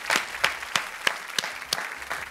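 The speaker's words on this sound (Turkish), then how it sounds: "bir moral alkışı gelsin ilk başta" A studio audience at a Turkish Lingo game show gives scattered rhythmic applause, sharp claps at an uneven beat, fairly close and moderately loud, with no talk over it.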